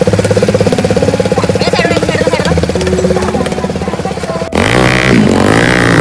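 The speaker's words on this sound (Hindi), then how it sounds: "आवाज पानी में केटीएम की" A KTM motorcycle engine runs loudly in water on an off-road trail, with a steady rapid throbbing idle that then shifts abruptly to a harsher revving tone, close up and dominant.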